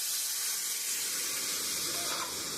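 Hot curry of egg and raw jackfruit, already fried down in a pan, takes a splash of water and lets out a steady, broad steam hiss that holds evenly for a couple of seconds, close and fairly loud.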